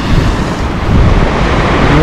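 Loud, buffeting wind blasts directly on the microphone at Flamingo beach in Lazarevskoye, Sochi, in December, a dense continuous roar with no other sounds audible.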